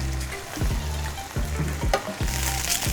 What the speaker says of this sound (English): And then we cook the beef, just pan-sear quickly.